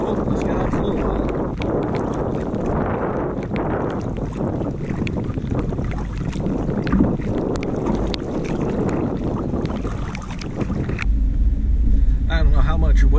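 Kayak paddling on a lake in rain and wind: steady heavy wind buffeting the microphone, with rain patter and water splashes throughout, loud and continuous, with a brief shift in texture near the end.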